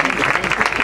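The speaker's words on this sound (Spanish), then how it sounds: "Un aplauso para ella" A crowd claps enthusiastically at a comedy magic show, a dense burst of applause over a brief moment.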